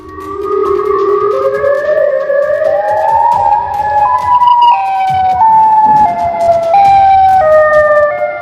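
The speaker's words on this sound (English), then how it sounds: "A person in the comments section said that this sounds like tornado sirens from Chicago" A siren-like wail resembling tornado sirens, loud and sustained, rising slowly in pitch and then wavering in stepped glides as it carries on alone.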